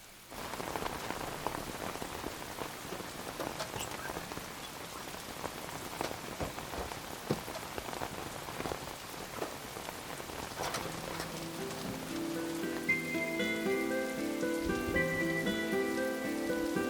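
Steady rain falls on surfaces nearby, a continuous dense patter with scattered heavier drips, later joined by faint music.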